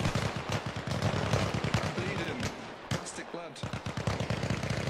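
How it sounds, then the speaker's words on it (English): Loud, rapid machine-gun and rifle fire in an Arma Reforger multiplayer battle, with dense bursts and a short lull before the shooting resumes, while voices shout underneath. "Ah, they're shooting me!"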